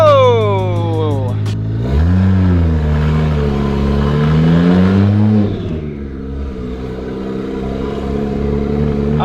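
A manual car with a welded differential revs while driving at low speed, its engine pitch sweeping up and down through several throttle blips before settling into a steady, lower drone.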